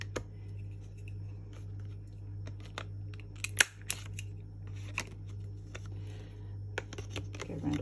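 Sharp scissor snips and clicks of a corner rounder trimming the corners of laminated bookmarks, a dozen or so irregular cuts over a low steady hum, close and clear with no talking.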